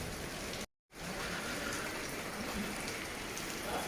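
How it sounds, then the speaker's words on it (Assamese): Heavy rain pours down in a dense, continuous hiss that drowns everything else, with one brief cut to silence near the start. "ইমানেই বৰষুণ চওক"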